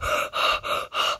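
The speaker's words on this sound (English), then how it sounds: "why are you panting?" Heavy panting from a cartoon character, four loud, rapid breaths in a steady rhythm, close and alone with no talking.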